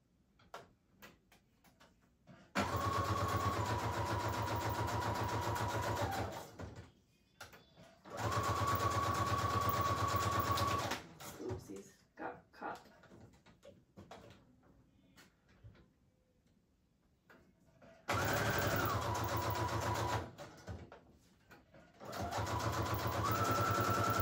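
A sewing machine stitches base pages for a junk journal in several loud, steady motor runs separated by pauses filled with paper handling and small clicks, no talking.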